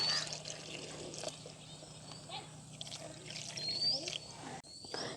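Water pours steadily into a pot of green plantains, a continuous trickling splash with a faint background hum and no talking.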